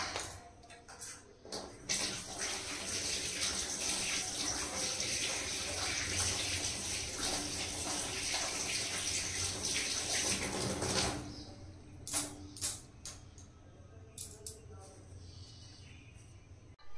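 Tap water runs steadily and close by while cut fish pieces are washed, a continuous splashing rush that stops after about nine seconds, followed by scattered clatter and dripping.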